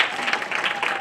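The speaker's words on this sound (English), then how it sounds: "let's give the audience a big round of applause." An audience applauds a cast of children on stage after a Missoula Children's Theater production of The Frog Prince. Dense, continuous clapping fills a large room for the whole short moment, steady and fairly loud.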